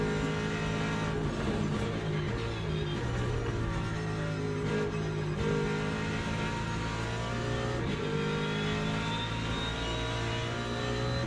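A pack of LMP2 prototype race cars closes in from behind in a racing game, their engines droning and whining steadily with sustained tonal revving throughout, loud and continuous with no talking.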